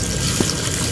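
Clean water pours steadily into a container during preparations for a Ganpati immersion, a continuous close, moderately loud splashing flow with no talk.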